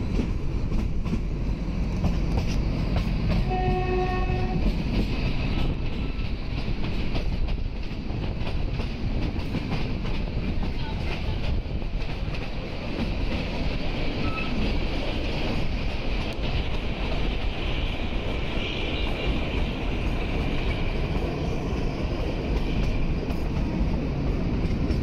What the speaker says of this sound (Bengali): কান্দাহার স্টেশন ছেড়ে হিমদর্শন এক্সপ্রেস এগিয়ে চলল সিমলার দিকে।